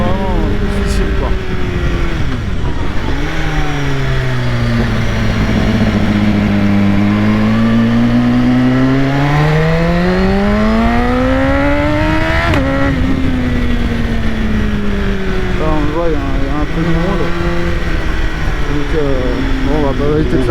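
A BMW S1000RR sport motorcycle accelerates hard on a public road, its loud engine whine climbing and falling through repeated revs and gear changes, with wind noise throughout.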